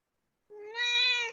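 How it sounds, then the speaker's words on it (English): A single cat gives one clear, rising meow lasting under a second after a brief silence, fairly close and alone with no talking. "My God, this cat, Nimni, your cat."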